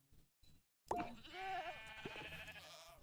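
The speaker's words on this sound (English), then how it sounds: "goats on top of a lantern with a hopper on their head, little hopping boogers" Goats bleating in Minecraft, several wavering bleats close up after a couple of brief soft knocks, the calls overlapping in a loud continuous stretch.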